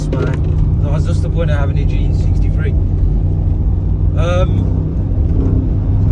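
Mercedes G63 AMG driven hard, with a loud, continuous low engine rumble under the driver's voice as he talks.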